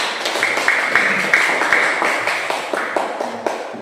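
A classroom of students clapping hands in a steady series of sharp claps over a continuous background hum, fairly loud and close.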